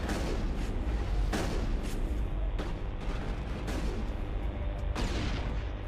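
Repeated heavy booming rocket launcher blasts in Mass Effect, several loud explosive shots in quick succession over a dense, rumbling battle din.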